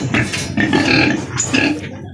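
Pigs on a farm being washed as they grow large, giving repeated grunts and squeals close by over a steady background, with faint human voices mixed in.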